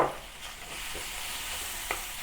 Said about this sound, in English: Heat some oil in a pan. When it is heated, add the minced meat